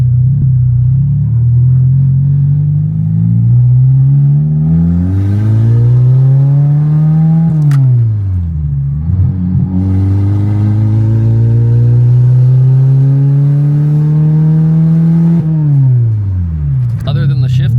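K24-swapped Toyota MR2 on its first drive, engine revving up and down in repeated rising and falling sweeps, loud and close from inside the car, with occasional clatter over a steady road rumble.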